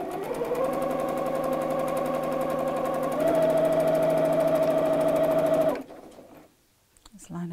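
A sewing machine runs a straight quarter-inch seam across a craft mat bag in one steady, close, loud burst of about six seconds, its pitch rising slightly midway, then stopping abruptly.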